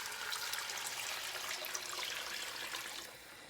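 Vegetable stock pours steadily into a soup pot of curried green lentils, a continuous splashing rush of liquid that tapers off slightly at the end, with no talking.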